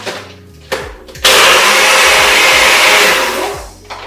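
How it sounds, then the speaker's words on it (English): A blender whirs a smoothie of ice and unsweetened almond milk. After a brief start it jumps to a loud, steady roaring grind that runs for almost three seconds before easing off. "Then I'm just going to whiz this up in a blender."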